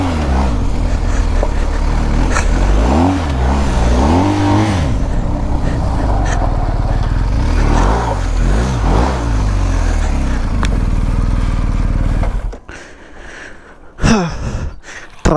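A BMW GS1250 adventure motorcycle revs repeatedly as it is turned around on a muddy, waterlogged off-road track, the engine rising and falling close by before cutting to quieter bursts near the end.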